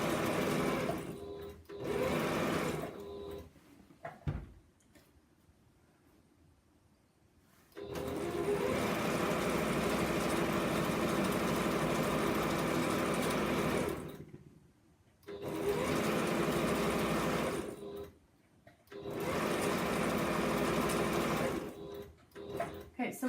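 A sewing machine stitches a border onto a quilt top in three long bursts of fast, even whirring, separated by pauses. Each run holds a steady whir for several seconds before stopping.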